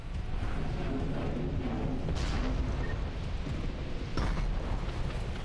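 A weapon fires in Mass Effect 3, two sharp blasts standing out over a dense, rumbling wash of combat noise, loud and continuous.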